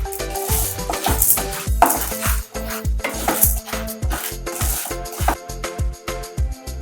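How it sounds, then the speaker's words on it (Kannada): Cinnamon, cardamom and cloves dry-roast in a pan while being stirred, giving close, rhythmic scraping and rattling strokes with metallic clinks, repeated steadily throughout. "ಈಗ ಇದಕ್ಕೆ ಚಕ್ಕೆ ಏಲಕ್ಕಿ ಲವಂಗನೂ ಹಾಕ್ಕೊಂಡು ಸ್ವಲ್ಪ ಹೊತ್ತು ಹುರ್ಕೋಬೇಕು"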